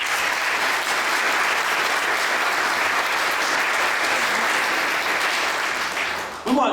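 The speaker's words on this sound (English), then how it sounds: "give applause for them as well" Sustained applause from a crowd at a medal celebration, honoring the helpers who worked on the event; a dense, steady clapping that holds at full strength for several seconds before fading at the end.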